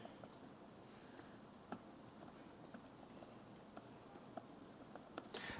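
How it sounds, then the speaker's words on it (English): Someone types steadily on a computer keyboard at a keynote demonstration, light irregular key clicks over a quiet background hum, no voices. "And I'll just start typing."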